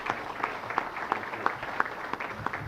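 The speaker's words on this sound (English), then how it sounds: "Would you please help me welcome Chris and Randy to our meeting" An audience applauds to welcome two speakers at a meeting, a steady patter of clapping at moderate volume with no voices over it.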